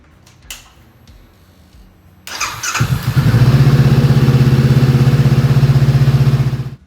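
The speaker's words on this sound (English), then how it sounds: "The first thing I'm going to do is warm the bike up to ensure a complete and rapid drain." A 2022 Honda CB500X motorcycle engine starts after a quiet lead-in, then settles into a loud, steady, close idle that runs for several seconds before cutting off at the end.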